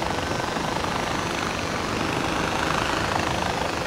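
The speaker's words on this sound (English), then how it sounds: "Yeah, helicopter's definitely faster." Helicopter flying in the video game Far Cry 4, a steady broadband rotor and engine roar that stays loud and constant throughout with no talk over it.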